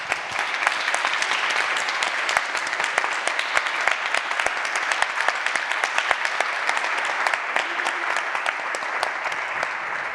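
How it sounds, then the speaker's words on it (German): Audience applause for artist Katharina Grosse at the close of a talk at Hamburger Bahnhof: dense, steady clapping from a full room, sustained evenly for about ten seconds with no voices over it. "ein großer, großer Applaus an Katharina Grosse"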